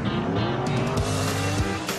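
A classic muscle car revs loudly while its tires squeal in a drawn-out skid, close and continuous with a rough engine drone underneath.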